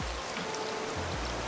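Rain in the ocean survival game Raft, a dense steady patter of drops with a low hum beneath, continuous and even throughout, no voices.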